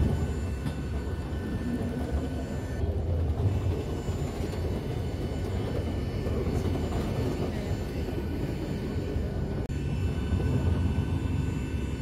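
Steady low engine drone and air hiss fill a crowded airliner cabin in flight, constant and enveloping for the whole stretch, with faint murmurs of passengers beneath.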